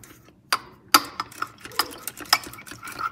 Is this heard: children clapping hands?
no